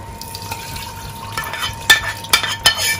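Water goes into a pot of egusi soup with splashing and stirring sounds, broken by several sharp clinks of a utensil against the pot in the second half.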